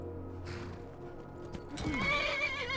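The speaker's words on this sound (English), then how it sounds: "Come on, tame the horse, please." A horse in the video game Skyrim whinnies loudly near the end, after a stretch of hoof clip-clop and background game ambience, with no one talking.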